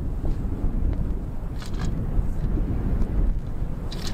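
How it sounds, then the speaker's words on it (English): Wind buffets a microphone outdoors at an RV campsite, a continuous low rumbling roar with gusty swells and a few faint higher rustles. "Told you it was windy."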